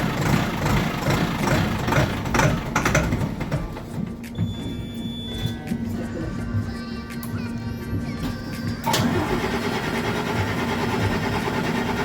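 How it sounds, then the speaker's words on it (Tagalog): A tender boat's engine runs during a test, a steady low rumble and mechanical idle chatter that shifts partway through and then returns to a fuller, rougher running tone. "dito pala guys, nag-start na tayo mag-test ng tender boat engine"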